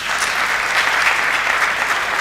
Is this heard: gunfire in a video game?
no